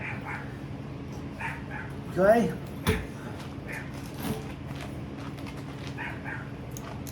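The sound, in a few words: Chihuahua dog barking and yipping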